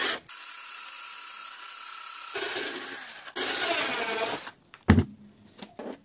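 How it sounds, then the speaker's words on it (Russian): A drill bores through a plastic bottle cap with a loud, continuous whirring grind that shifts in pitch partway through, then stops, followed by a few faint handling knocks. "нужно взять бутылку и насквозь просверлить отверстие в крышке"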